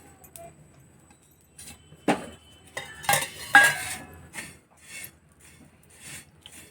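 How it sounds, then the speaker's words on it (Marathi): Sesame, garlic and chillies dry-roasting on a hot black tava, heard as sparse metal scrapes and clinks of a spatula with a couple of louder rattles as ingredients are tipped on, otherwise quiet. "याच्यावर या सगळ्या वस्तू मी आता या भाजून घेणार आहे"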